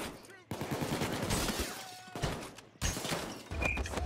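Gunfire during a jewelry heist in the video game Payday 2, with loud bursts of shots in separate runs and someone talking at points amid the shooting.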